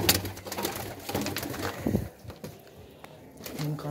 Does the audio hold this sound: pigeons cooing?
yes